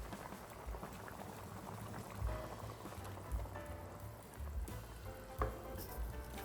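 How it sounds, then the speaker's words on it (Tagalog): Pork belly simmers as its liquid reduces and the fat renders, giving a quiet, steady bubbling and sizzling with occasional soft pops, close but faint and without talking. "Papakuluan pa natin to ng mga about 20 minutes hanggang sa tuluyan ng mag-evaporate ang liquid nito."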